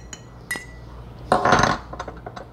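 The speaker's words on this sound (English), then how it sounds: "Give it a quick little stir there." A Bees Knees gin cocktail gets a quick stir in a glass, with a few light clinks of ice and spoon followed by a short swirling rattle up close.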